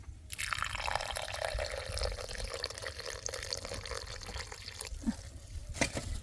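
Water pours steadily into a container while frogs are prepared for a jaew dip at a small field hut, a continuous broadband splash running nearly the whole time and ending with a couple of brief drips and knocks.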